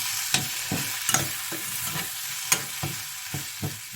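Eggs and rice for Chinese fried rice sizzle steadily on a stovetop burner while a utensil scrapes and stirs them in a string of sharp, close taps and clatters, with no talking.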